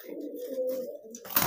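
A male pigeon coos in a low, steady drawn-out tone while chasing a hen during courtship, followed by a brief rustling burst at the end.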